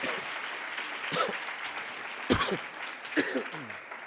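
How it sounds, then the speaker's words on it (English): A crowd at a district teacher of the year celebration claps steadily while a few cheers and voices rise over the applause at moments. "Please give them another round of applause."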